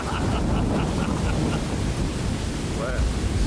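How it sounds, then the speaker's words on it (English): A thunderstorm rages in the video game Skyrim, with dense wind and rain noise roaring steadily throughout and low rumbling underneath, loud and continuous rather than breaking into distinct claps. "Wow, this is a big storm."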